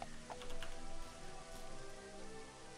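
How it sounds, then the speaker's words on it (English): Steady rain patters continuously in a video game, faint and even throughout, with no voices. "the ragtag band is out playing in the rain?"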